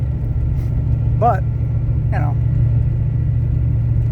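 A 2000 Dodge Ram pickup being driven hard gives a constant loud low engine rumble, while someone speaks briefly over it.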